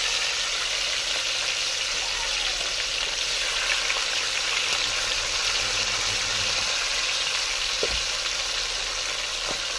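Food fries in a pan with a dense, unbroken sizzle and occasional stirring scrapes, steady and close for about ten seconds, with no voices.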